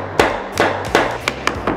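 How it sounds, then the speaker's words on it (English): A hammer taps nails into a wooden architrave, struck with the side of the head: six sharp, close knocks in an uneven rhythm, each ringing briefly, with no talk over them. "Using the side of the hammer."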